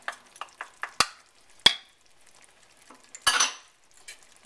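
Shrimp, basil and garlic dropped into a pan for spicy garlic shrimp, heard as a run of sharp close clinks and scrapes of a utensil against the pan, then a brief louder sizzling clatter and a few more taps, with no talk.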